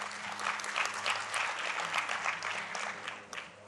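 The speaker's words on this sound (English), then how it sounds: "give him a round of applause firstly" Applause from the audience at a business forum breakfast, a dense clatter of many hands clapping, moderately distant and sustained, then beginning to fade.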